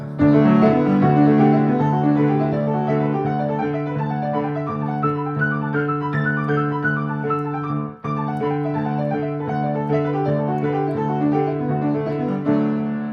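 Guitar plays the chords of a song as broken triads, notes picked one at a time in a steady flowing rhythm, clear and close, with a brief pause partway through.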